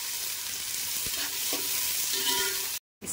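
Chopped onions sizzle steadily in a hot pan for prawn pulao, with a spoon stirring and scraping through the frying and a brief cut to silence near the end.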